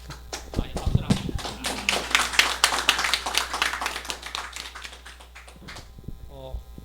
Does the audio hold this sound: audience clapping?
yes